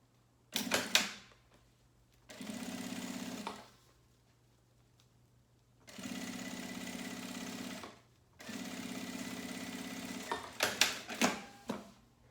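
A sewing machine stitches the fabric lining of a milk-carton box in several steady whirring runs of a few seconds each, separated by pauses, with clacks of the presser foot and handling at the start and end, close and wordless.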